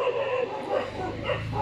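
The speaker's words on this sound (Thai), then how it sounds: "อาจจะมีเสียงหมาเห่านะครับผม" A dog barks and yips close by in a realistic excavator-driving video game, short repeated whimpering barks over a steady low engine hum.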